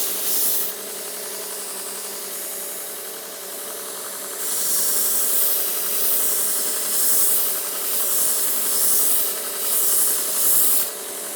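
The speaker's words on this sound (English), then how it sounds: "I like to grind along the edge of the head of the spike." A railroad spike knife being ground along the edge of the spike head, giving a steady abrasive hiss that grows louder and surges in waves after the first few seconds, with no talking.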